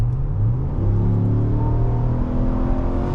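A 2022 RAM 1500 Rebel with a HEMI V8 accelerates from inside the cab, its engine rumbling loud and steady, the pitch climbing smoothly through the revs.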